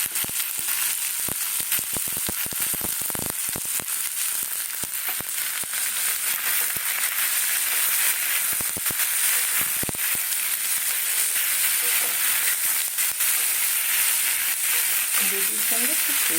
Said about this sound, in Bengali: টমেটো, পেঁয়াজ কলি, এগুলো সব পেঁয়াজের সঙ্গে ভাজা হয়ে যাবে।